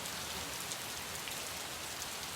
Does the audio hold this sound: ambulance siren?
no